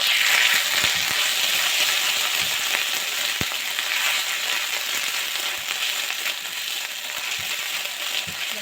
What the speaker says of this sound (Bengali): আদা কাঁচা লঙ্কাটা একটু ভেজে নেব